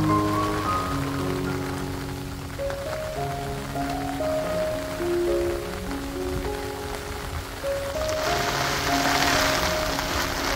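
Steady rain patters on surfaces during an outdoor walk on a rainy day, with a soft piano melody playing over the constant wash of falling drops, which grows a little stronger near the end.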